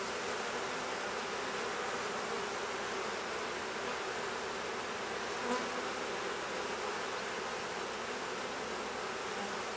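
Honey bees buzz around an open beehive nuc during a four-week inspection, a steady, dense hum that stays even and close for the whole stretch without any talk.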